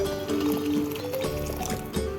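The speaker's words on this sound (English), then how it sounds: "Now carefully add the boiling water." Boiling water is poured into a kadai of yellow Goan pulao, a short, close, continuous liquid rush and gurgle with no speech.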